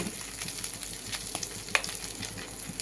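Quiet, steady sizzling of shrimp frying in oil, with faint crackles and a few soft pops.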